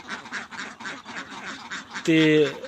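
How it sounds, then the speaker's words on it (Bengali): Ducks on a duck farm quack loudly in a short burst near the end, following a stretch of steady, rhythmic background sound. "এখানে হাঁস রয়েছে"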